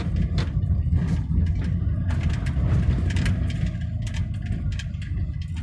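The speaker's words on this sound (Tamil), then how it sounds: "இப்போ என்ன பண்ணுறேன்னா டக்குன்னு கியரை குறைக்கிறேன்." A Toyota Innova Crysta or Fortuner engine braking after a quick downshift from fourth gear, a steady low rumble and drone that holds evenly throughout, close and fairly loud, with no talking.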